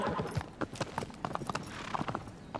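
Horse hooves clip-clopping in the Shadow of the Colossus video game, a quick run of hoof beats at moderate loudness heard close up.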